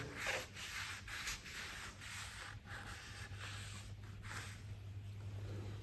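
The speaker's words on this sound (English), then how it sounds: "We're just going to keep rubbing that on until it won't take anymore." Minwax tung oil finish is rubbed by hand onto spalted guitar wood, a soft, quiet, repeated swishing friction in slow back-and-forth strokes, close up with no voices.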